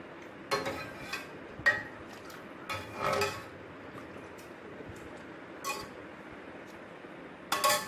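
Ingredients for Sri Lankan milk toffee being mixed in a pan, heard as a few scattered scrapes and clinks of a utensil against metal, moderately close, with quiet pauses between them and no talking.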